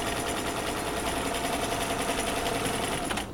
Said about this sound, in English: now I'm stay stitching exactly on the 1/4 seam allowance